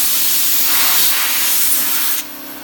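Loud, steady air hiss from a car tire being inflated on its rim after the valve core is refitted, a 2011 Dodge Charger wheel in a garage, running continuously and then dropping off abruptly near the end.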